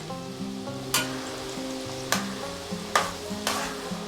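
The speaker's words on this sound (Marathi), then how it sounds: "छान क्रिस्पी अशी होस्तोपर्यंत आपल्याला मिरची तळून घ्यायची" Green chilies frying in hot oil for chivda, a continuous sizzle with periodic sharp scraping stirs of a spatula in the pan, close and without talk, over a steady background hum.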